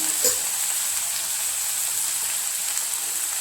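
Spring onion greens roasting in a pan for chutney give a continuous soft, even sizzle, close and steady, with a faint click near the start.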